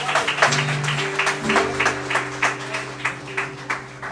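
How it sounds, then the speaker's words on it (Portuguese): A church congregation claps during an evening service, with irregular claps over sustained organ or keyboard chords in the background. "Dê uma salva de palmas ao Senhor."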